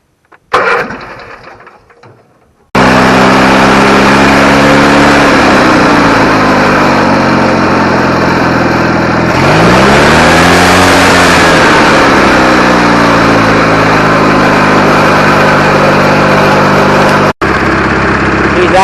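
A GT6000 lawn tractor engine cranks briefly, catches and settles into a loud, steady close-up idle that holds with a slight swell in pitch midway before cutting off near the end.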